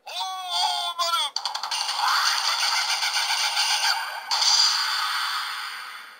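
A Ninninger Otomo Nin Shuriken toy plays its summon voice, a short electronic vocal phrase followed by a long, dense rattling, whooshing effect, loud and close, with a brief swell near the end.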